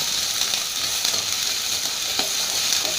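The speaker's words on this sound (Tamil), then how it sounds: "வெங்காயத்தை நல்லா வதக்கலாம்." Sliced onions sizzle steadily in hot oil in a pan, a continuous bright crackle with occasional scrapes of stirring, close and fairly loud with no talking.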